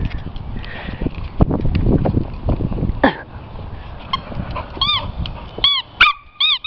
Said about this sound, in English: Uh-oh, Hemi's got the ball.